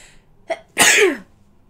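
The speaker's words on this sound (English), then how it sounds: "oh God, I want to sneeze." A single loud, close human sneeze, a brief sharp intake followed by a forceful explosive burst that trails off, with no talk around it.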